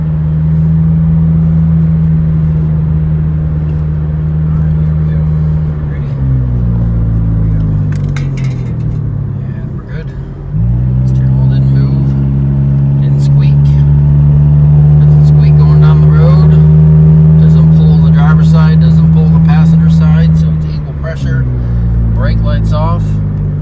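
A 2005 Acura RSX (DC5) with freshly replaced brake pads drives down the road for a brake test, its engine droning steadily with rising and falling revs and a brief dip as it slows, while people talk over it.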